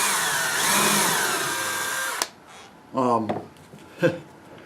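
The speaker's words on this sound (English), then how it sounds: "put it in my drill, and then I just countersunk all of these holes, just like this." A Porter-Cable power drill countersinking holes whirs loudly for about two seconds, winding slightly up and down, then cuts off, followed by someone speaking briefly.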